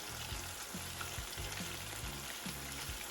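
Chicken nuggets fry in beef gelatin in a pan, producing a steady, moderately loud hiss and sizzle with faint stirring sounds over a low musical bed.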